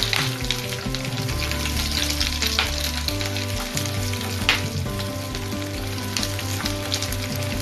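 Half a white onion sautés with six cloves of golden garlic in a pan, producing a loud, steady sizzle close up, with occasional stirring scrapes and no talking.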